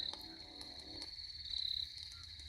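Night ambience with a steady high-pitched chorus of crickets and low frog croaking calls, one louder trill rising briefly near the middle, all fairly faint and distant.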